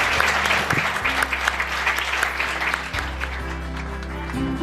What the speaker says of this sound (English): let's all give those 2 a round of applause, please.